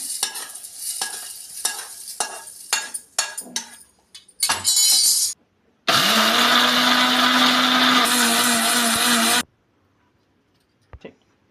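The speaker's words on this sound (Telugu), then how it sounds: "ఇప్పుడు ఇది మిక్సీ వేసుకుందాము. మెత్తగా పౌడర్ లాగా ఆడుకుందామండి మిక్సీ" A mixer grinder whirs loudly in two long bursts, grinding urad dal and grains to a fine powder, preceded by clinking and rattling of grains or utensils, then a brief clatter at the end.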